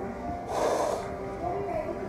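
A young woman blows her nose after a strong shot of liquor at a birthday gathering, one brief honking snort mid-clip with people talking around it.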